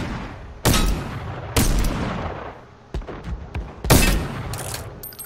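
Bursts of video-game gunfire shooting robots: loud sharp volleys at regular intervals, with a few smaller single shots between them and no talk over the firing.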